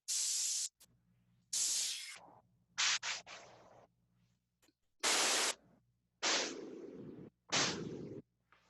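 Bursts of harsh, grainy filtered noise switching on and off, some bright and hissy, others darker and rougher, separated by near-silent gaps.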